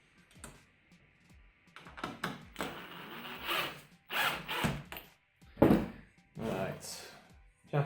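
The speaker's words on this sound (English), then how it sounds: "I'm going to screw that in place. Push that up, screw some more." A screwdriver drives screws through metal corner anglebead into plasterboard in bursts of whirring and grinding. They come in several separate runs with knocks and handling thumps between them, close up.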